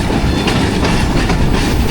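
Loud, steady rumble and rattle of the 18 Down Millat Express passenger train running on the rails as it approaches Bilwal railway station, heard from on board with continuous clickety-clack and no talking.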